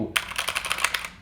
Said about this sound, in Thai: ลองเทียบกับตั ว K2 ของผมนะครับอันนี้เสียงตัว K2